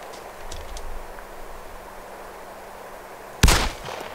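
A single loud gunshot in the video game DayZ cracks near the end, preceded by quiet ambient hiss and a couple of faint knocks.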